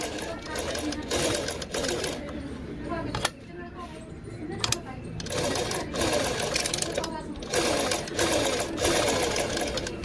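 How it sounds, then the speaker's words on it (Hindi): A domestic sewing machine stitches fabric after a shuttle and needle adjustment, with rapid mechanical chattering in bursts and a short pause. Someone talks over it throughout. "देख सकते हैं मशीन की सिलाई भी एकदम चकाचक है"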